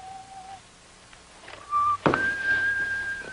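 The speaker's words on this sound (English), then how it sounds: "There's some sort of a whistling noise coming over." A wavering whistle comes over a shortwave radio, holding a few steady pitches of a tune, first softly and then louder and sustained after a brief knock, with no voices.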